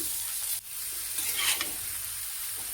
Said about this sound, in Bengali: এখানে একটু এগুলো ভালো করে নাড়ায় নিব, ডিমগুলোর সঙ্গে এগুলো মিক্স করে নিব